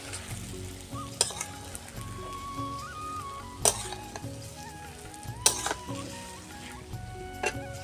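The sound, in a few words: pointed gourd and potatoes frying and stirred in spice paste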